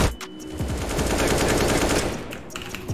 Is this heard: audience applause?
no